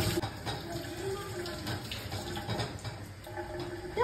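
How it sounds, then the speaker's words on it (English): Tap water runs into a sink while a tomato is rinsed under it, a continuous splashing gush with small fluctuations as hands move the fruit, at moderate volume with faint background sounds. "Let me wash this tomato."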